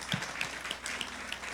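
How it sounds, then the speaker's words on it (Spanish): Faint, steady applause from an audience at a church event, a soft continuous patter of many hands heard at a distance with a few sharper claps standing out. "Ponle un aplauso también por esa historia."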